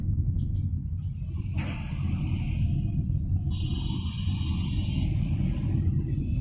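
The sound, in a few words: Tata Tiago CNG car engine driving at low RPM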